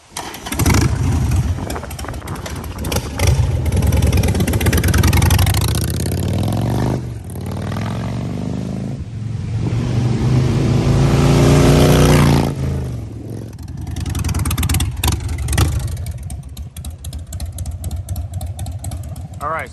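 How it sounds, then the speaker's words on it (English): A Harley-Davidson Sportster motorcycle engine runs loudly for a long stretch, rumbling and revving up and down, with brief quieter gaps between bursts. "As you saw, Sean took the bike for a spin, got the fluids in there a little warmer"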